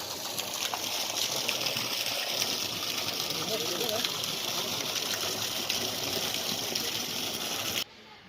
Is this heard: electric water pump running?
yes